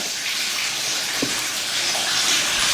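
Water from a hose gushes steadily through the cooling system of a Yamaha R1 motorcycle with an overheating issue, a continuous, fairly loud hissing rush that barely changes throughout.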